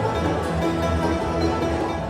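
Bluegrass band playing at an event in Anderson, South Carolina: a busy, steady stream of fast picked notes over a driving rhythm, moderately loud throughout.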